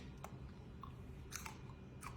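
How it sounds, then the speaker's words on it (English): Someone chews a piece of raw habanero pepper during a spicy pepper tasting, with soft, wet mouth sounds and a few faint crunchy bites, close and quiet, with no talking. "I'm going to try to keep chewing. I'm going to try to chew it and swallow."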